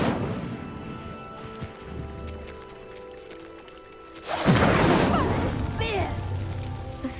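An Incendio fire spell cast in Hogwarts Legacy erupts about midway as a loud, broadband whooshing burst of flame, following a quieter stretch of game ambience and crackling, then lingers as a roaring fire.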